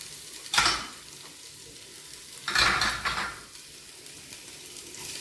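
Turmeric powder frying in a pan while being stirred, a quiet background sizzle punctuated by two or three scraping spoon strokes against the pan, close up and without talking.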